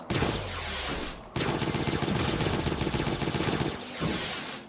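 Rapid bursts of gunfire from DEEEER Simulator, a deer simulation game, crackle loudly through a dense, continuous fusillade that drops out briefly before resuming, with no talk over it.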